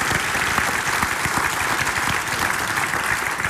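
Theater audience applauding steadily at a live event in Amsterdam's DeLaMar Theater, a dense, continuous wash of clapping that stays loud and even throughout.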